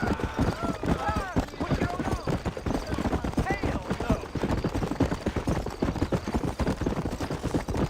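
Horse hooves galloping in a Wild West video game, a rapid rhythmic clip-clop running throughout, mixed with game audio and partly under a voice talking.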